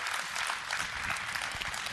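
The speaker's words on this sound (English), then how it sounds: "We ought to stop and just give God a hand clap of praise right now." A church congregation claps hands together in praise, a dense burst of many overlapping claps that holds steady and fairly loud through the moment, with no clear speech over it.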